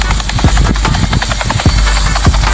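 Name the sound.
helicopter flying in a video game roleplay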